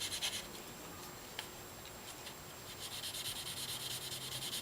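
Knife edge being polished on fine 2000-grit sandpaper: a steady, soft scratchy rubbing hiss that runs throughout with a faint bump partway through, close up and with no talking.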